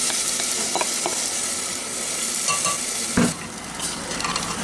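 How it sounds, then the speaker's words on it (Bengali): Marinated potatoes frying in oil for aloo dum, a steady close sizzle with intermittent scrapes and clinks of a spoon stirring in the pan, no talking. "দিয়ে তেলের মধ্যে এই আলুটাকে একটু কষিয়ে নিচ্ছি"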